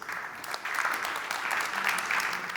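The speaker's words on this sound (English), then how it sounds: "A round of applause to Juris." A crowd claps in sustained applause at a startup pitch event, many hands at once, moderately loud and steady for a few seconds.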